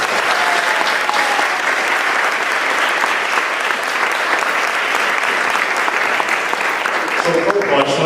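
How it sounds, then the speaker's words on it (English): Sustained, loud applause from a crowd at an 8th grade graduation ceremony, a thick continuous clatter of many hands lasting several seconds, with faint voices underneath near the end. "I think we should give them a round of applause."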